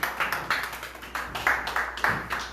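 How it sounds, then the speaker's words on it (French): A church congregation at a Sunday service in Montreal claps in rhythmic bursts, steady and fairly close, with some voices mixed in. "On acclame très fort"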